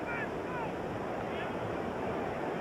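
Strong wind buffets a stadium microphone during a 1988 NFL game between the Denver Broncos and San Francisco 49ers, a steady loud roaring rush filling the whole moment with no break.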